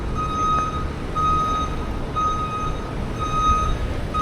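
Truck backup alarm on a street in Queens, New York, under an elevated railway: steady repeating electronic beeps at even intervals over a constant rumble of street traffic and engine noise.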